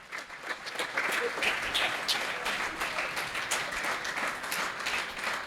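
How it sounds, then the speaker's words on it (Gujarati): Sustained applause from an audience gathered at a Ghatkopar felicitation ceremony for volunteers, dense steady clapping filling the whole stretch with scattered louder claps on top. "જોરદાર તાળીઓથી વધાવો ભાગશાળી"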